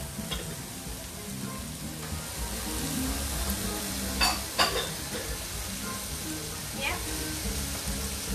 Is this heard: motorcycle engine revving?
no